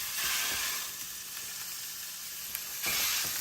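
Hot dogs and a large burger frying in a pan, giving off a steady, close, loud sizzle and hiss with faint stirring noises and no talking.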